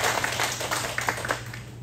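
A church congregation gives a short burst of warm applause to welcome visitors, many hands clapping together at close range before it fades.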